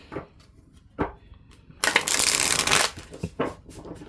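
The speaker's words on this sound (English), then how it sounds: "I want to shuffle this while we talk about that." A deck of tarot cards is shuffled up close. A few soft taps and flicks lead into a loud, dense riffle lasting about a second, followed by scattered card taps.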